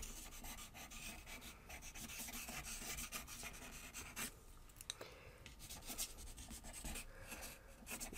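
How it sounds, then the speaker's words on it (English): Writing on paper, a continuous close scratchy rasping of a marker moving in loose strokes, with brief pauses between bursts and no voices. "So let me do some writing here."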